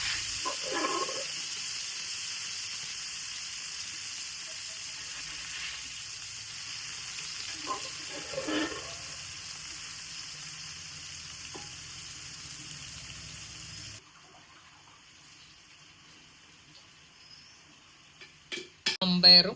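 Mung beans and stems stir-frying in a pan with mustard seeds, curry leaves and chilli flakes give a steady, close sizzle with light stirring, which cuts off abruptly, leaving quiet and a few final clatters.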